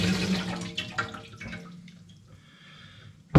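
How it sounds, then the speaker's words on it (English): Water splashes and trickles as it is poured off blackberries through a strainer into a pan, a gurgling flow that thins to a faint drizzle, then a sharp knock at the end. "So that's the initial water poured off."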